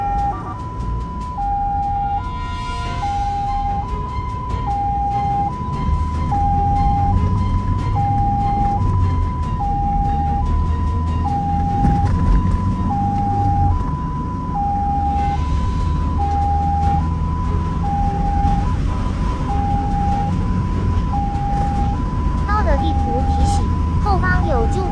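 An ambulance siren wails in a steady two-tone pattern, loud and continuous, over rumbling traffic and engine noise while driving through morning rush-hour streets, with a navigation voice speaking intermittently.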